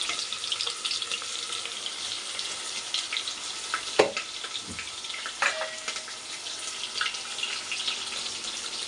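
Onions frying in hot oil for vegetable pulao, a continuous hissing sizzle with occasional stirring scrapes and clinks from the pan, close up and without talk.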